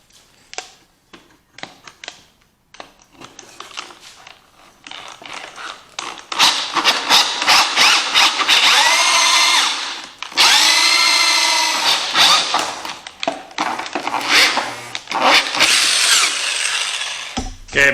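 A power drill spins a hole saw through speaker enclosure material, the cutting growing into long, loud grinding bursts after a run of short taps and starts; no voices.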